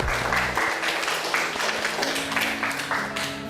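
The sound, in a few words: applause for group 4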